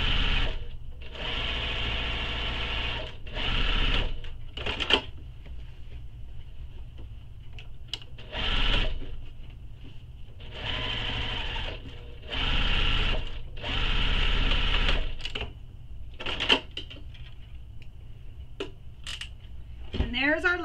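Sewing machine top stitching across a tote bag in a series of short runs, each a whirring burst separated by quiet pauses with small clicks and fabric handling nearby.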